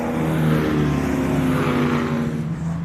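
Race cars in a BCV8 Championship race at Oulton Park roar past on the circuit, a loud, sustained engine drone with steady harmonic tones that swells and holds without letup.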